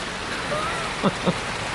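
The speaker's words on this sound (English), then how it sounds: "Daggum rain." A dense, steady hiss of heavy rain pouring down, with two brief soft thuds partway through.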